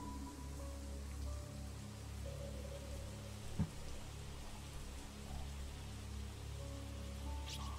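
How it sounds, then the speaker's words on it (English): Soft, steady rain patters continuously in the horror video game Corpse Party, a faint even hiss with one brief thud near the middle and a low hum underneath. "Rainy evening after school."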